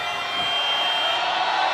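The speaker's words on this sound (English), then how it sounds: "you gotta appreciate the crowd loving the effort of their guy, Chanshu Wing" A basketball arena crowd roars in a steady, dense wash of cheering and whoops, loud and sustained for a couple of seconds with no clear break.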